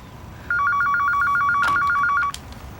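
A telephone rings in an indoor domestic scene of a French-language television series, a steady electronic warbling ring of rapid pulses lasting about two seconds, loud and close, with no talk.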